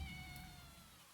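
A single short cat meow in a horror video game about a stray black cat, faint and set against a low ambient drone.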